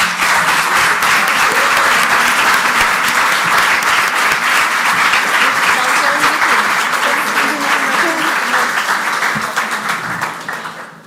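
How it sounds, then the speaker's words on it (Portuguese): Sustained, loud applause from a conference audience for a youth-wing deputy, a thick wall of clapping lasting over ten seconds with faint crowd voices beneath, easing off at the very end. "gostaria também de pedir uma enorme salva de palmas à nossa Presidente da Juventude, a deputada Rita Matias"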